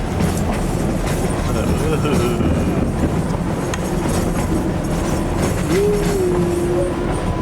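Steady rumble and rattle of a moving passenger train heard from inside a car on a New Mexico trip, with wheel squeals and clacking running continuously under occasional background voices.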